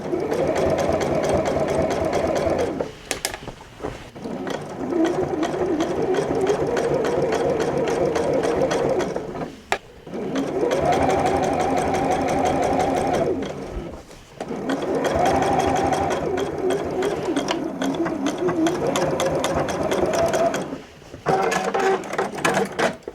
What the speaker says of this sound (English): this is a real test for the sewing machine